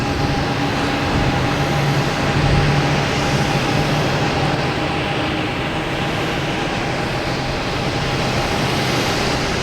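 Steady loud jet roar of a JetBlue Airbus A320 airliner arriving at Boston Logan Airport, with a faint engine whine held underneath throughout.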